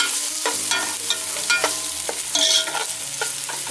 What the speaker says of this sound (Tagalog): hanggang maging translucent ang ating gisa mixture